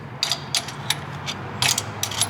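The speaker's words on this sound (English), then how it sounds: "all I have to do is tighten that nut, and I'll just get a big wrench" A big wrench ratcheting to tighten a nut during a clutch install on a G35/350Z, several quick bursts of clicking separated by short pauses, close and fairly quiet.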